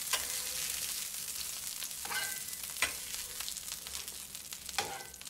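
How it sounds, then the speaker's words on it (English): Two quarter-pounder burgers sizzle on a Rutland contact grill, a steady hiss of frying fat with a few sharper pops, moderately quiet and without talk. "there we are at the end of 2 minutes cooking time for 2 quarter-pounder burgers"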